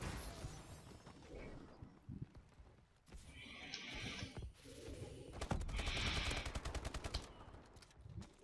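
A horse whinnies from an obsidian steed in Call of Duty Advanced Warfare, heard twice amid game noise, with bursts of rapid automatic gunfire rattling loudly alongside the second neigh.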